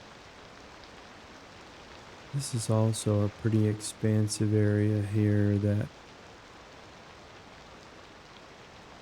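Steady rain hisses softly across a Cities Skylines 2 city before dawn, an even wash of noise throughout while someone speaks briefly over the middle.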